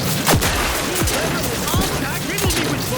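Gunfire in the video game Outer Worlds 2, with several sharp shots spread across a steady din of combat and a voice murmuring underneath.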